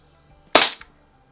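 A single sharp report from a Crosman 2200 Magnum .22 pump air rifle, a loud close crack with a brief tail and a faint click just after, set against near silence.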